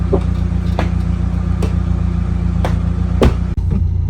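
A 1992 Honda Accord Maestro with PGM-FI injection runs steadily close by, a loud, even engine drone with a few brief clicks and knocks and one short dropout near the end.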